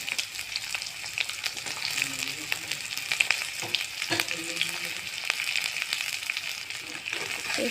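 Onions frying in hot oil for an Assamese chicken curry, a continuous close crackling sizzle with scattered pops and occasional utensil clicks, steady throughout without talk.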